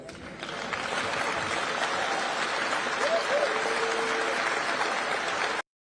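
A large crowd at a political event claps in a dense, even roar of applause that holds steady throughout, then cuts off abruptly at the end.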